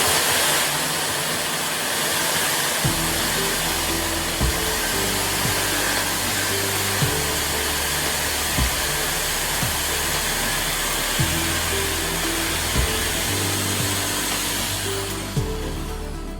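Power tool cutting a traced wooden piece for a simple rifle rack, a steady loud whining drone running continuously with a few brief load changes and thumps, alone without talk.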